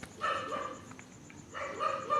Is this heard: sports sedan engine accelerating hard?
no